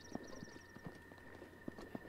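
Horse hooves clip-clopping in the video game The Legend of Zelda: Breath of the Wild, a few quiet, irregular hoof clops over soft ambient game background.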